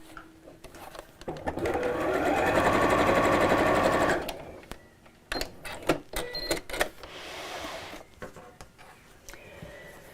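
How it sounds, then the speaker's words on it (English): Sewing machine running in one steady burst of about three seconds as it stitches the folded-over edge of a drawstring bag with carry strap, followed by softer handling clicks and rustles. "Fold over and sew."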